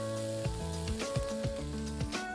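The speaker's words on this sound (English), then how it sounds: "The oil is smoking hot now. The first thing that goes in is chopped garlic. Along with this, I'm adding in chopped ginger." Chopped garlic and ginger sizzle steadily in smoking hot oil in a wok for Indo-Chinese chilli chicken, with a soft hiss running under louder tuneful background music.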